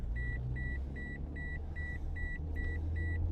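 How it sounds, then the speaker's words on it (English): Car seatbelt warning chime sounding as a steady series of eight evenly spaced, clear electronic beeps over a constant low engine and road rumble inside the vehicle. "this is my warning for belt buckle"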